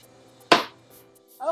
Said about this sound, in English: I'm just chopping it up in circles.